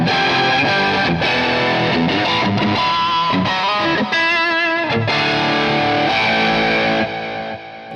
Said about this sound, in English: you know that's a digital distortion